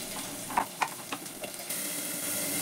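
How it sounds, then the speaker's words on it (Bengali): Brinjal pieces with onion fry in a pan, a steady sizzling hiss broken by a few brief stirring scrapes early on, then continuing evenly, close and fairly quiet with no talk. "পেঁয়াজের সাথে অল্প করে বেগুনটা ভেজে নেব"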